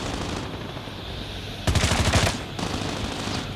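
Gunfire in a shooter video game rings out as a short, loud burst of rapid automatic shots, set over a steady background game noise.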